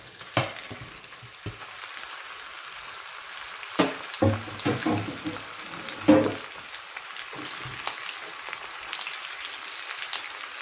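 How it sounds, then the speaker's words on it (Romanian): Ginger frying in hot oil in a pan after almonds, a steady crackling sizzle with occasional louder pops and stirring clatter, close and continuous with no talking. "Să prăjesc ghimbirul, 2-3 minute."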